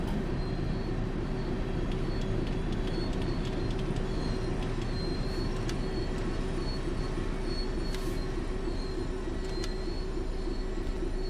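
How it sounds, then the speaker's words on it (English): An HST high speed train pulls away on the Midland Mainline in Train Sim World, a steady loud rumble of engine and rolling wheels filling the whole stretch, with faint bird-like chirps and squeaks scattered above. "off goes that HST"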